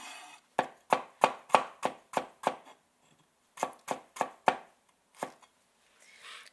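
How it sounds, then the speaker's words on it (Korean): A knife chops rapidly on a cutting board while mincing garlic and ginger. Two quick bursts of crisp, close taps are separated by a short pause, and a final lone tap follows. "이렇게 마늘을 다져주신 다음에 생강을 다져주세요"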